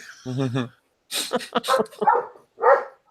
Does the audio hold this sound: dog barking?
yes